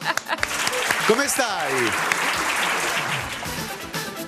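Studio audience applause on an Italian variety show, a dense burst of clapping as a guest arrives, with a voice calling out greetings over it.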